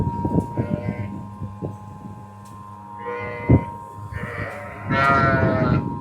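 Sheep bleat near a running 350 kg feed mixer, giving several drawn-out, wavering calls over the machine's steady hum and mechanical clatter, with a voice briefly heard.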